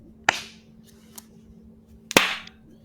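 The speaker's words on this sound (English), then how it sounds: "they can see a sync clap." A sync clap on a retro gaming show set rings out twice as a sharp, isolated crack, the first near the start and the second about two seconds later, each with a brief bright decay over a faint steady hum.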